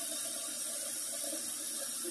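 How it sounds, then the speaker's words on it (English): Tap water runs steadily into a glass coffee pot in a home kitchen sink, a continuous close gurgling flow with no talking. "I'm gonna fill up that coffee pot with water and let it soak a little bit."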